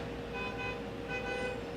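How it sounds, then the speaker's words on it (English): A UPS delivery truck sounds its horn outside, a steady tonal honk that is held for a couple of seconds and heard at a moderate distance over a low road rumble. "that guy usually honks all the way down the strip"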